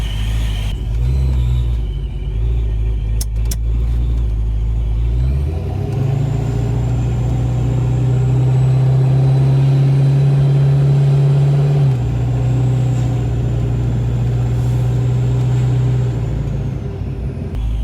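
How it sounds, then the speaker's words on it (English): Loud, steady engine drone with a continuous high-pitched supercharger blower whine riding on top, rising as the engine is revved and holding level, no talking. "that blower is freaking loud"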